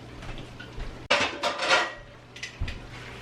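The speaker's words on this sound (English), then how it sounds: "And then we need to put a lid on it." A lid goes onto a cooking pot of spinach with a sharp metallic clank and a brief rattle as it settles, followed by a few softer clinks, close by and with nobody talking.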